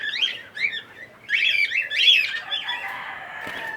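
Cockatiels and African lovebirds squawk and chirp in an aviary, with sharp, close calls in uneven bursts and a quieter chatter trailing off.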